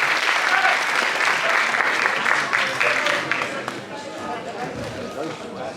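Audience applause at a horse show, a dense, steady wash of clapping from a crowd that holds strong before easing slightly toward the end.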